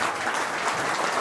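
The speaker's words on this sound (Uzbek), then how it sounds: "Bitta qarsak cholinglarda, yigitlar" Audience at an olympiad event giving a round of applause, a dense, loud wash of many hands clapping together without pause.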